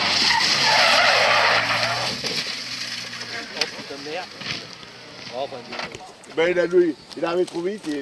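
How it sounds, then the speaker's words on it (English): A race car skids wide and spins round into the barrier during a motor race, a loud sweeping roar of tyres and engine that fades before commentary voices take over. "Boom, round it went into the barrier, and Hugo Condé tries to drag it out"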